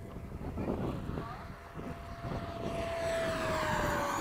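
A Freewing 90mm F-22 RC jet makes a victory pass, its ducted-fan whine rising and shifting in pitch as it passes overhead, faint and distant under wind buffeting on the microphone, with voices nearby.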